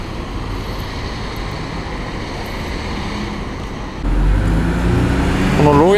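Heavy road traffic rumbles steadily past, with large tour buses gathered from across Japan in Tokyo for the Olympics; the engine and tire noise swells louder near the end.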